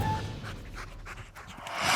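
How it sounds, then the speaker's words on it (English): An 8-month-old Bernese Mountain Dog puppy pants in quick, soft, rhythmic breaths close to the mic, fairly faint over light background noise. "Life with a Bernese Mountain Dog is awesome"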